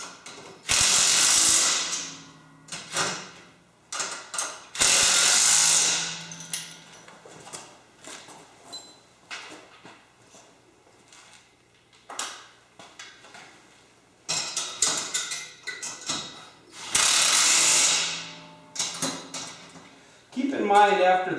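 A ratchet clicks in repeated bursts while tightening the mounting arms of a CMP Attachments front mount dethatcher, the sharp ratcheting strokes interrupted by pauses and someone talking.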